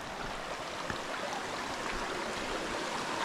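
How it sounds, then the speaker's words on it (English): A creek flows across a steep hiking trail near Payson, Arizona, as a steady, soft, continuous rushing of water with no voices over it. "Got another creek crossing here"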